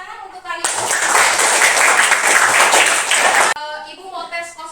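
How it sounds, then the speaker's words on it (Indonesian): A burst of clapping and applause from a class of students lasts about three seconds, bracketed by talking before and after. "Oke, tepuk tangan untuk kalian."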